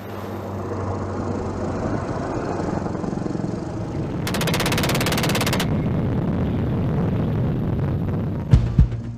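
Sustained, dense rattle of rapid-fire aircraft guns and cannons over a roaring jet engine drone, with a sharp harsh burst midway and a couple of heavy bangs near the end.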